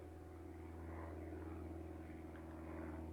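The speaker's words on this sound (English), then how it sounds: "A 3rd airplane has hit the video," A propeller airplane drones faintly overhead, a steady low hum with a broad whooshing wash that persists throughout.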